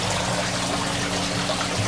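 Aquaponic water trickles and pours steadily back into a fish tank on a research farm, a continuous close splashing wash with no break.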